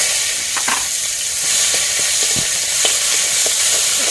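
Onion, green chili and garlic paste fry loudly in hot oil, a close, continuous bright sizzle with scattered small pops and scrapes.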